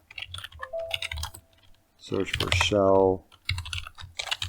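Rapid clicking and clacking of typing on a computer keyboard during a Windows exploit-development session, close and steady, with someone talking over parts of it.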